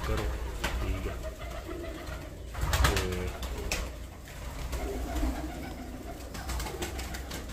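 Pigeons coo in soft, repeated bursts at a Pakistani pigeon loft, close and moderately loud over steady outdoor background noise, with no talking.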